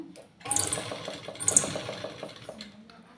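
Domestic sewing machine stitching a wedding blouse, short bursts of rapid mechanical needle chatter starting and stopping, close by, with faint background noise and no clear talking.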